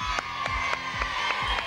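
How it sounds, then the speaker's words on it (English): Studio audience at a 1977 Australian music TV show cheering, whooping and clapping in rhythmic bursts about every quarter second, a lively crowd roar sustained across the short span. "Give it, come on, a cheer."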